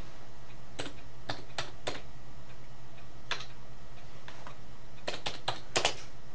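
Keystrokes on a computer keyboard as a command is entered in a Linux terminal, sounding as short bursts of clicking taps separated by pauses, close and fairly clear over a steady low hum.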